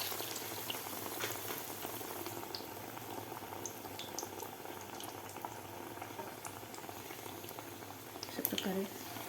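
Batter-dipped taro leaves frying in hot oil over high flame, a faint, steady bubbling sizzle running throughout, with a brief louder crackle near the end.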